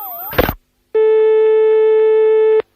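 Telephone line tone while a call is being placed, a steady electronic beep holding for nearly two seconds, loud and clean after a brief burst of noise and a pause.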